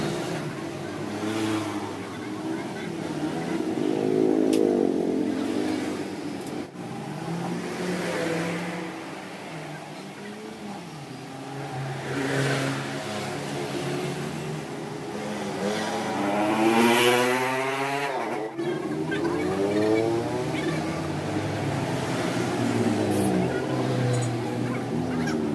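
Motorcycle engine idling and revving after carburetor repair, a rough, throaty drone that swells and falls in uneven bursts across the clip, close and fairly loud, with a brief voice partly audible.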